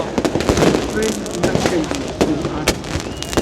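Fireworks burst repeatedly at a Tbilisi New Year festival, with close, loud cracks and pops scattered irregularly over crowd noise and voices.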